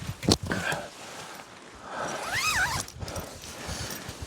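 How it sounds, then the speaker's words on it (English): Bug net zipper on a camping hammock being pulled, a short rasping zip sweep with a rising and falling whine in the middle, heard close and fairly quiet amid faint rustling. "Full zip on bug net."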